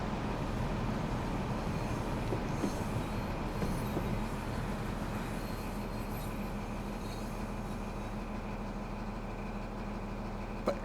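An HST high-speed train running on rails in Train Sim World gives a steady, even rumble of wheels and engine, with a faint squeal near the end and no talking.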